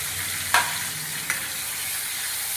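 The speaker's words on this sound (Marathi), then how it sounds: "सगळ्यात पहिले प्रथम तेलामध्ये आपण ही टोमॅटो प्युरी आपण टाकून घेऊया" Tomato puree fries in hot oil for a paneer gravy, giving a constant bright sizzle broken by two sharp spatula scrapes or taps against the pan.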